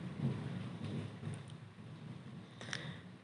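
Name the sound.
heavy rain and thunder outside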